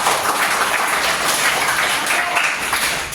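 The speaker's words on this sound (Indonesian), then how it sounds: "Tepuk tangan untuk Samuel dan Mika." Classroom applause during a lesson on blood circulation, a steady wash of clapping filling the whole stretch at moderate loudness with no voices over it.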